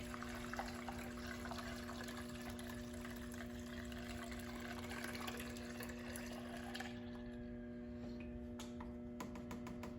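Coolant is poured into a car radiator reservoir during winter maintenance, a faint, steady trickle of liquid over a constant low hum that drops away near the end.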